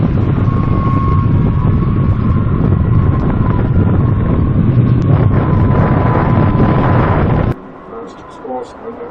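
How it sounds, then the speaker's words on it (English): Strong wind roars across the microphone at sea during rough-weather trials of a T-2000 Voyager boat, a loud continuous buffeting with a steady tone through it, then dropping abruptly to quieter wind near the end. "We've got an awful lot of wind here today"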